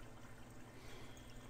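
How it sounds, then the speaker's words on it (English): Steady broadband rush of a water stream flowing beneath a locked door in a video game, continuous and even, with no voices. "Locked firmly, though I hear a stream of water flowing from beneath"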